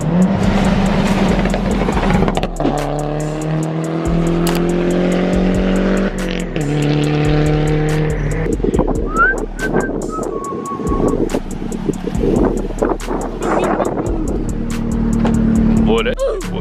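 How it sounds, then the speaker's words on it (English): Loud cars speed past one after another, engines rising and falling in pitch as each flies by close up, with people talking and exclaiming over the roar. "those were just a few of the flybys I was telling you about"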